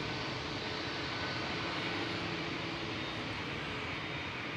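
A Boeing 737 Max 8 airliner departs Manchester Airport for Murcia, a steady, hissing broadband jet roar held at moderate distance, with no voices.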